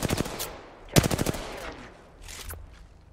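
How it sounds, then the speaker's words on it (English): Rapid automatic gunfire in the Apex Legends battle royale shooter: a fast burst of shots, a louder second burst, then fainter distant volleys trailing off. "Other team is shooting at them now."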